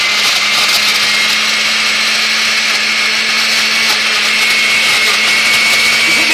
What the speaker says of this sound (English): I don't know how to use the blender, so milkshake chop